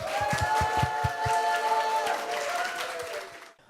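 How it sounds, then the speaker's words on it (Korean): An audience at a disability-awareness talk show applauds as a wheelchair track athlete comes forward, with steady, moderately loud clapping over sustained tonal music and low thumping beats at the start, dropping off abruptly near the end. "큰 박수로 홍덕호 선수를 앞으로 모시도록 하겠습니다"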